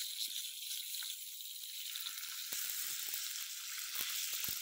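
Avoli (pomfret) fish fries in a pan with curry leaves, hissing in a soft, steady sizzle punctuated by small crackles and pops, fairly quiet and close.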